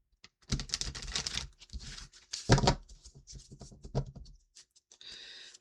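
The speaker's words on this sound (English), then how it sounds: "let me give these another shuffle" Tarot cards being shuffled by hand in irregular papery bursts of riffling and sliding, close and moderately loud, with short pauses between bursts and no talking.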